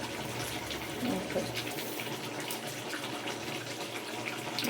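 Desi atap rice is washed by hand in water. Quiet, continuous swishing and splashing sound close up, with no one speaking.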